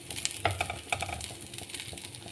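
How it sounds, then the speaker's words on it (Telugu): Cutlets made with maida fry in hot oil, a steady close crackling sizzle with sharp little pops and spatters throughout. "సో ఇలాగే మొత్తం అన్నీ కూడా నేను ఫ్రై చేసేస్తాను ఫ్రెండ్స్"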